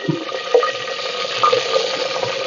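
Tomatoes and green chillies go into a clay pot on a wood-fired stove, a steady moderate sizzle with a few soft knocks and stirring sounds, close by with no talking.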